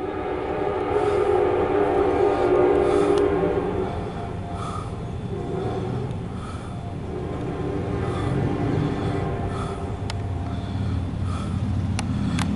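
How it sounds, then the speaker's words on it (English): Short Amtrak P029 passenger train of 20 axles passing close by, a steady loud rumble and wheel roar across the whole span with faint clicks from the rail joints. "That's the shortest Amtrak I got. 20 axles."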